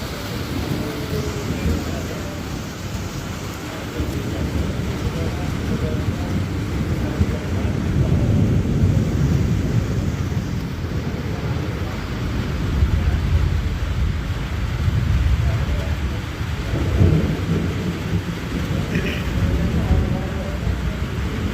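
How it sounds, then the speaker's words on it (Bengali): Heavy rainstorm with rumbling thunder in a rural area, a continuous low roar of rain and wind with deep swelling rumbles rising and fading throughout, steady and fairly loud. "আমাদের এলাকায় বৃষ্টি হচ্ছে এবং মেঘের গর্জন তো আপনারা শুনতেই পাচ্ছেন"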